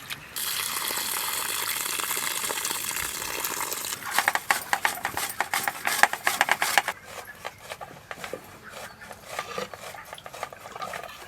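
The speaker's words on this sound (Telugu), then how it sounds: "రైస్ 1కి 2 సార్లు శుభ్రంగా కడుక్కోవాలి." Rice is washed in water, starting with steady pouring water and then changing to rhythmic swishing and sloshing, with grains rubbed and stirred against a metal vessel.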